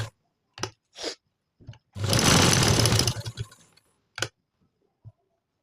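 A sewing machine stitches along black embroidery on fabric, making short mechanical whirring bursts and one longer run of rapid stitching, close and alone with pauses in between.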